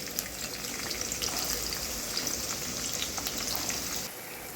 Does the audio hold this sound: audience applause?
no